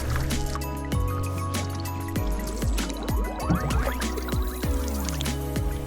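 Canoe paddle strokes dipping and pulling through the calm water of Lake Louise, a steady series of close splashes and swishes with watery gurgles between strokes and no talking.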